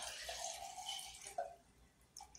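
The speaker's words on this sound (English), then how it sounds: "And you just fill it up to the fill line." Water runs from a tap into a pot being filled for ginger root tea, a steady splashing stream with a few brief clunks near the end.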